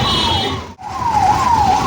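An ambulance siren wails with a steady rising and falling tone amid heavy road traffic. It briefly drops out partway through, then resumes strongly, loud and close, with no talking.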